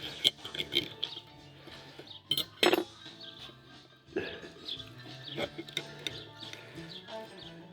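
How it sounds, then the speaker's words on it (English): Fork and knife cutting a grilled lamb chop on a plate, with scattered metallic clinks and scrapes of cutlery against the dish, irregular and close, with a sharp burst of clatter midway. "And then you cut your lamb chop"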